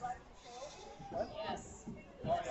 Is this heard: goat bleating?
yes